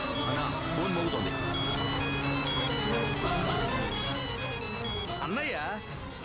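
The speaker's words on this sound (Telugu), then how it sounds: "ఫోన్ మోగుతోంది." In a tense Telugu action-movie scene, a mobile phone ringtone plays a looping melodic tone throughout under the film's soundtrack, and a voice shouts briefly near the end.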